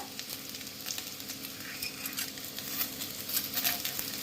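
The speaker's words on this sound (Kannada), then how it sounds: "ಇವನ್ನೆಲ್ಲ ಹಾಕೊಂಡು ಚೆನ್ನಾಗಿ ಫ್ರೈ ಮಾಡ್ಕೋಬೇಕು ಇವುಗಳನ್ನು ಕೂಡ" Cinnamon, cloves and cardamom fry in hot oil in a pan for a village-style mutton sambar, giving a steady close sizzle with light crackles and stirring.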